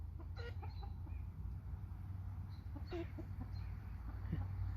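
American Bresse chickens clucking in a rooster coop holding fourteen birds, several scattered clucks and short calls at moderate distance over a constant low fan-like hum, fairly quiet overall.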